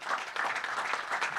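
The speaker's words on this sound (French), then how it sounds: "On peut applaudir Carole." A seminar audience at an additive manufacturing technology event gives a brief, fairly quiet burst of applause, steady clapping for just over a second.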